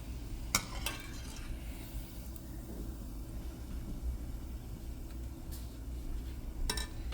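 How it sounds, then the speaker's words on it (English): Small gulab jamun balls frying in a pot of oil and nudged along with a spider strainer: a steady low bubbling hiss with a few sharp metallic clinks, no talk. "Use the spider strainer's round part/tip to slowly move the small balls top to bottom until they are fully fried"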